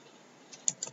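Entering data on a computer keyboard: a short run of soft, close keystrokes with a couple of sharper clicks near the end, no voice.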